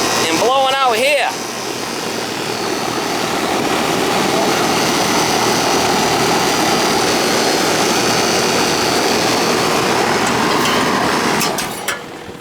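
An air conditioner unit that is not cooling the house, its fan roaring steadily and loudly as air is sucked in and blown out close by, with a brief voice and squeak at the start and a clatter at the end.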